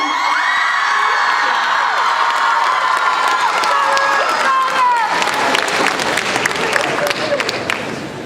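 A live event audience screams, cheers, whoops and applauds loudly and continuously as a contestant dressed as Inuyasha is announced, a dense roar of many voices with shrill shrieks that slowly eases near the end.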